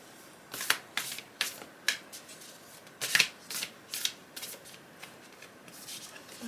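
Tarot or oracle cards from Rebecca Campbell's Work Your Light deck being shuffled and handled, a series of crisp, separate riffling bursts at an uneven pace, close and fairly quiet.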